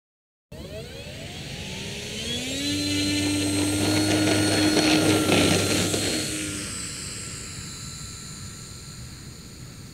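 E-Flite Twin Timber 1.6m twin-engine RC model airplane in flight, its electric motors whining with rising and falling pitch as it passes, growing louder to a peak mid-pass and fading away, no talk.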